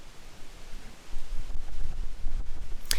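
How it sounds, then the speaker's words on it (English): Strong wind gusts blowing through woods on a disc golf course, a steady rushing roar that swells louder after the first second and stays loud, with a brief sharp knock near the end. "such strong gusts of wind permeating through the woods"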